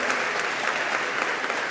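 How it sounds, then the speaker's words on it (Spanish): A church crowd claps warmly for visitors from Santa Bárbara de Guardastinaja, a brief burst of dense, steady applause with no voices over it. "Un aplauso para ellos."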